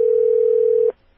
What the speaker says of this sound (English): we're going to try and reconnect on the house phone.